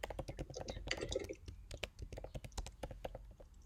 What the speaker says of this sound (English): for example, I will type my name